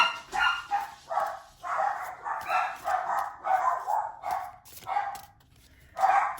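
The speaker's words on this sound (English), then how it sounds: "your energies activated the dogs for sure" Dogs bark repeatedly in a quick, irregular series, moderately close, with one yip-like burst at the end and short gaps in between.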